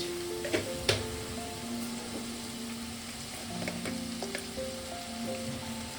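Ground spices hiss and sizzle in hot oil in a frying pan for a tangra fish curry, a steady, close crackle broken by a couple of light clicks of a spoon.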